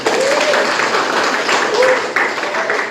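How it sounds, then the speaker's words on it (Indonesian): Students in a classroom burst into lively applause that stays steady throughout, mixed with a few raised voices calling out over the clapping. "tepuk tangan semuanya"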